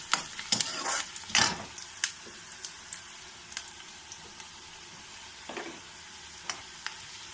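Onion and green chilli frying with turmeric in a pan for a bottle gourd and chana dal curry, a soft steady sizzle broken by a few loud scraping clatters of stirring near the start and lighter knocks later.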